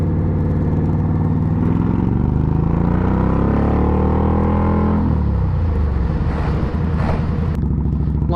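A loud, throaty Indian Scout motorcycle engine roar rumbles continuously and close by, the pitch rising then dropping as the exhaust note changes.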